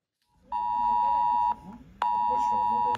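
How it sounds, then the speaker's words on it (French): Two long, loud emergency alert tones sound from mobile phones, each steady tone lasting about a second, with faint voices murmuring underneath. "Une sonnerie reconnaissable et une notification automatique avec un message d'alerte envoyé sur tous les téléphones portables"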